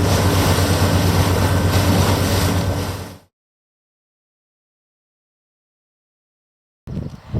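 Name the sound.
ferry crossing with waves in Argyll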